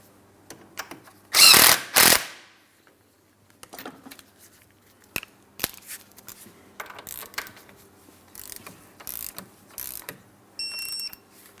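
A castle nut being tightened onto an inner tie rod stud on a 2004-2008 Pontiac Grand Prix, with two loud bursts of a power tool early on followed by scattered metallic clicks, ratcheting and handling noises.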